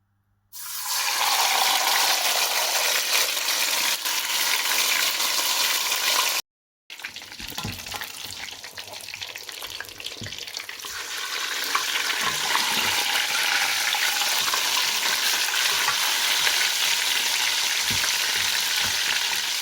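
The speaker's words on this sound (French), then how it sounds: "J'ai mis une casserole au feu avec de l'huile qui a chauffé. Je vais maintenant faire frire mon poulet." Loud, steady sizzling of chicken frying in hot oil in a saucepan, briefly cut off and then resuming, bubbling continuously up close.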